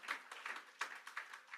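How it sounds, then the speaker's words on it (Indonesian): Lively applause from a church congregation, fairly distant, with rhythmic bursts of clapping running throughout. "Tepuk tangan yang meriah buat Tuhan."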